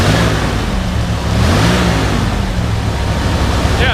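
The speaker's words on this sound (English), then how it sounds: "Go ahead and rev it up a little bit." The engine of a 1991 Chevrolet Suburban 2500 4x4 revs while cold, a loud, close, rumbling roar that rises and swells briefly midway through, then settles back toward a steady run.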